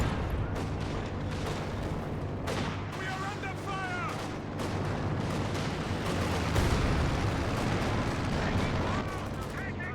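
Artillery barrage in a competitive video game match, with repeated heavy booms and gunfire cracks rolling continuously at close range over a dense low rumble, while voices talk throughout.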